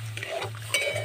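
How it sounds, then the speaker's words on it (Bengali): Fried semolina is stirred in a pan as milk is added, making short, quiet scraping and sloshing strokes over a faint steady hum, with no voices. "আমি অল্প অল্প করে দুধটা দেবো আর মেশাতে থাকবো।"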